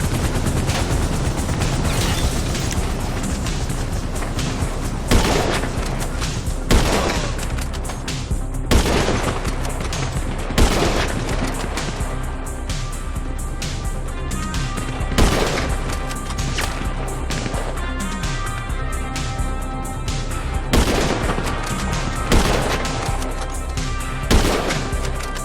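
Sustained gunfight in GTA 5: dense, loud bursts of automatic fire and repeated heavy bangs throughout, with sharp shot peaks standing out every few seconds over a continuous layer of shooting.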